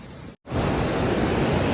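Ocean waves wash onto a sandy beach beside a log wall built against erosion, a loud, steady broadband rush that resumes after a brief silent gap.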